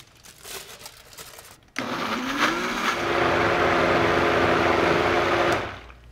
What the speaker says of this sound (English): You have to blend this for a long time.